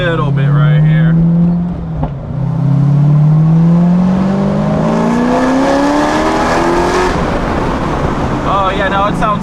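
A straight-piped Corvette ZR1 accelerates up close, its loud engine note climbing steadily through the gears with a brief dip at a shift, the exhaust roaring throughout.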